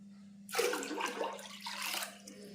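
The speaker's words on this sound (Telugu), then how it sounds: "7 గిన్నెలు నీళ్లు పోసుకోవాలండి మనం" Water poured from a bowl into a pot in a home kitchen, the seventh bowlful of water measured for rice flour vadiyalu, a steady splashing gush lasting about two seconds, close and moderately loud over a low steady hum.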